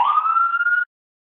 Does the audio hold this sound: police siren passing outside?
yes